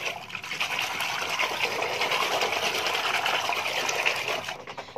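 Two big spoons of yeast and some sugar are stirred into water to dissolve them, giving a continuous close swishing and sloshing of liquid that stays steady throughout.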